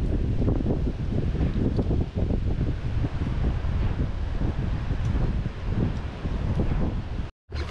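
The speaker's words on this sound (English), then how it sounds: "Ooh, that wind is crazy." Strong wind buffets the microphone beside a river, a steady loud roar with gusting surges that drops out briefly near the end.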